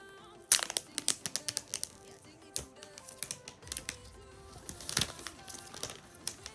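Packaging of an iPhone 12 Pro being opened close up: a quick series of crisp plastic crinkles and small snaps and rustles, fairly quiet, with scattered sharp clicks and no talking.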